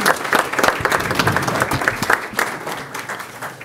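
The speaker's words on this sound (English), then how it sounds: "Let's give a big round of applause." Dense, loud round of applause from an audience in a city council chamber, honoring the Don Lugo ROTC color guard; steady, close clapping fills the room throughout with no break.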